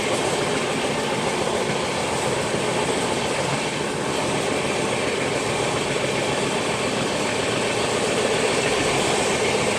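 Steady, dense rumble of the Rajdhani Express running on the rails just after Kazipet junction, heard from inside the train, with continuous wheel and carriage noise filling the whole stretch and no voices.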